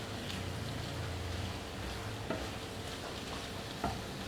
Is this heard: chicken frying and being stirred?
yes